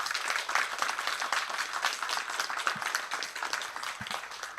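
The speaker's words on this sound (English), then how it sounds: "Big round of applause." Dense, steady applause from a school audience after a radio contact with the International Space Station, continuous clapping heard at moderate distance without a break.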